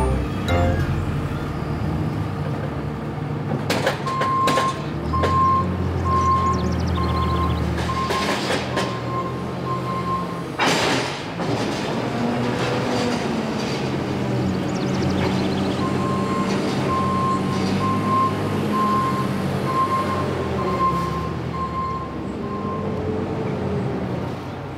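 A tractor loader with a muck grabber lifts muck high into a trailer: a steady engine drone, intermittent reversing beeps, and scattered clanks and knocks from the grab and trailer.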